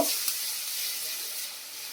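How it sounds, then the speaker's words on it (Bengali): Garlic and green chillies frying in hot oil, an even, hissing sizzle that runs continuously, with a single quick clink of stirring near the start. "এবার ওই তেলের মধ্যে আমি রসুন আর হালকা করে কাঁচা লঙ্কা দিয়েছি, দিয়ে এটা ভালো করে নেড়ে নেব।"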